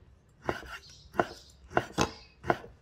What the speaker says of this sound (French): je vais couper la viande en petits morceaux